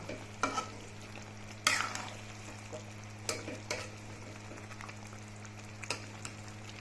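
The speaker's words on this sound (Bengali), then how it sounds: "এখানে চিকেন ভালো করে কষানো হচ্ছে" Chicken with green chili sautéing in a pan for a spicy chicken roast, a steady low sizzle broken by several sharp scraping stirs, close and fairly quiet, no talking.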